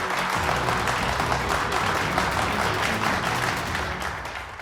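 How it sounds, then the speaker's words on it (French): A crowd gives steady, dense applause at an album launch evening in a Bollywood drama series, sustained clapping that stays loud for several seconds before easing slightly. "Alors maintenant, applaudissons-les les amis."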